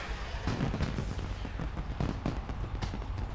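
An explosive stockpile in World of Warcraft going off as a rapid string of crackling, popping bursts like a box of fireworks, fairly loud and continuous over a low rumble for a few seconds.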